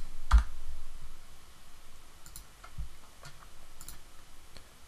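Computer mouse clicks while editing a text box and trigger in Articulate Storyline, a handful of faint, sharp, irregularly spaced clicks over a quiet background hiss.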